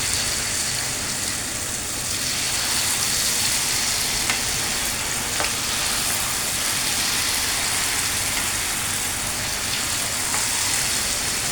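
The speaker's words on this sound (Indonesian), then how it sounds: "Kalau minyak udah panas, ini udah siap kita goreng untuk payeknya." Steady, dense sizzling of Indonesian peanut crackers (peyek kacang) frying in hot oil, a continuous bubbling hiss with occasional small crackles.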